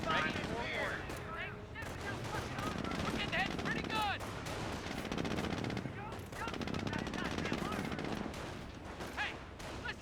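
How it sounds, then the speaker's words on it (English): In the Company of Heroes game, a jeep's machine gun fires in rapid bursts amid scattered battle gunfire and explosions, while a commentator talks over the action throughout. "Jeep's currently firing away."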